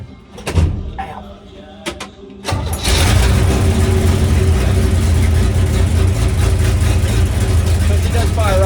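A Chevrolet C60 truck engine in cold weather cranks in short bursts, catches and settles into a loud, steady idle close by.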